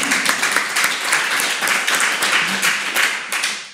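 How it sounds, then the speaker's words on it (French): A crowd applauds steadily throughout a district council meeting at a Paris town hall, dense and lively, then the clapping starts to thin and fade near the end. "Vous pouvez applaudir."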